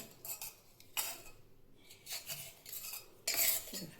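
A spoon scrapes and rubs powder and lemon juice against a metal puja vessel in short, irregular bursts, with quiet pauses between strokes.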